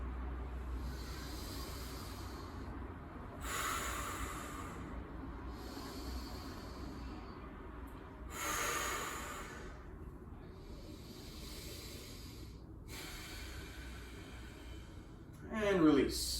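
Slow, deep breaths during a standing yoga balance exercise, about three long airy inhales and exhales at a steady pace, close and soft, with a voice talking between them.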